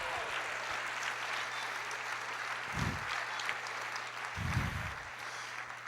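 Church congregation applauding during a Portuguese-language sermon, a steady rush of clapping at moderate level under a low hum, with a couple of short voiced bursts.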